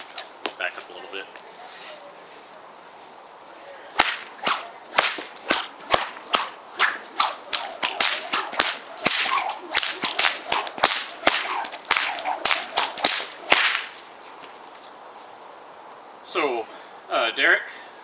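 A pair of all-Dacron Exo whips being cracked, a long series of sharp, loud snapping cracks in quick irregular bursts, with a voice talking at the start and near the end.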